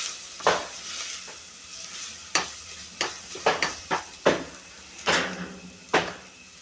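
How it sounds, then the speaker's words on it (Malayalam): A spoon stirs chili powder in a frying pan for a taro curry, making about a dozen irregular scraping knocks over a steady, faint hiss of sizzling. "ഇതൊന്ന് ഇളക്കിയെടുക്കുന്നുണ്ട്"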